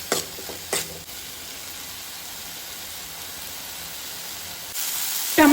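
Chopped tomato frying in a pan until soft gives a low, steady sizzle, broken by a couple of sharp clinks early on and a louder burst of hiss near the end.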